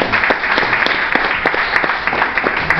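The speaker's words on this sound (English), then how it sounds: "let's get a round of applause for Cindy." Audience at a comedy club applauding, dense steady clapping throughout, loud and close, with an occasional voice mixed in.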